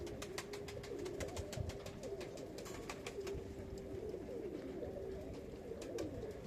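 Pigeons coo in low, repeated throaty calls over a constant background hiss, with light tapping and clicking sounds scattered throughout.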